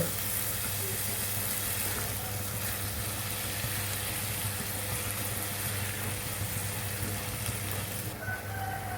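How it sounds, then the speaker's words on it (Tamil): Tomatoes sauté in a pan for a tomato coriander chutney, a continuous, even sizzle that stays steady throughout and is heard alone. "தக்காளியை கொஞ்சம் வதக்கிடுங்க."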